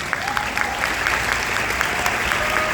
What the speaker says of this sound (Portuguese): Uma salva de palmas para essa professora.